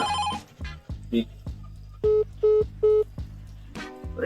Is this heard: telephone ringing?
yes